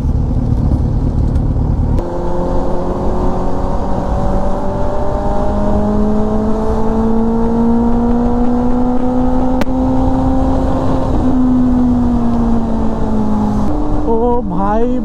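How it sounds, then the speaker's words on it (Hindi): Kawasaki Z900 motorcycle exhaust heard while riding, a loud steady engine drone with rising pitch as it pulls through the revs, holding near and continuous before a brief wavering change at the end. "मैं विदाउट म्यूजिक अभी राइड कर रहा हूँ, मेरे को इतना अच्छा फील हो रहा है ना, एग्जॉस्ट की साउंड मेरे लिए शांति जैसी है अभी"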